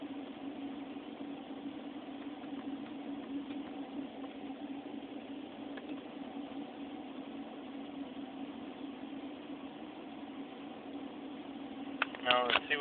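A 1973 Mercedes 450SL idling with the air conditioning running, a steady low engine hum with constant tone throughout and a brief clatter near the end.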